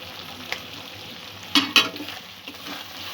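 Ground cumin and coriander frying in a pan while being stirred, a soft steady sizzle broken by a couple of sharp scraping clinks of the spoon against the pan, close up with no talk.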